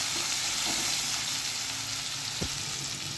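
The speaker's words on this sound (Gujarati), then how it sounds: "હવે ડુંગળીને આપણે થોડી ગોલ્ડન બ્રાઉન થાય ત્યાં સુધી સાતળી લેશું" Finely chopped onion and garlic sauté in hot oil in a pan, a steady bright sizzle with a brief clink of a utensil partway through, no talking.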